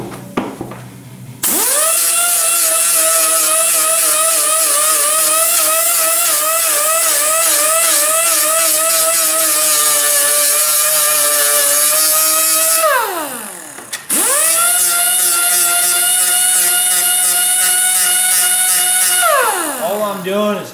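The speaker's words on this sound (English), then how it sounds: "the high-speed sander will melt this plastic" A high-speed sander grinds a plastic bumper cover in two long, loud passes, its high whine steady and close, dropping away briefly between runs and spinning back up; a voice talks over the grinding.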